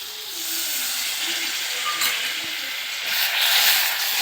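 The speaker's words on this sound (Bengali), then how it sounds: "আবারও একটু মশলা কষিয়ে নিচ্ছি মশলার সাথে দইটা" Spiced masala with whisked yogurt sizzles in hot oil as it is stir-fried in a pan, a steady broad hiss that swells louder near the end, with no voices.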